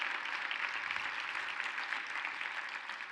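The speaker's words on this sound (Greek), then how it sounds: "Παρακαλώ ένα μεγάλο χειροκρότημα στη Βίλη και στον Κωνσταντίνο" An audience claps at a stage event for a new AML, a steady dense patter of many hands, soft and distant, continuous throughout.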